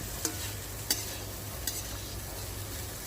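Poha being stirred and spread across a kadai, with soft scraping stir strokes and faint sizzling, three brief sharper scrapes standing out over a steady low hum.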